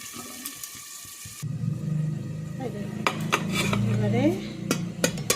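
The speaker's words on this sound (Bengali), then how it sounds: "এরপর এই মশলাটাকে ভালো করে কষাতে হবে।" A spice paste with salt is stirred and fried in a pan for a taro-stolon and shrimp dish, giving a soft sizzle with frequent clinks and scrapes of the spoon, and one short spoken word at the start.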